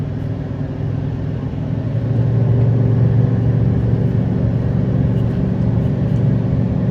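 Exhaust of a gas Chevrolet 2500HD L8T pickup towing a 12,000 lb fifth-wheel trailer uphill: a steady, loud low-pitched engine drone that swells slightly after the first couple of seconds and holds at a strong, constant level with no talking.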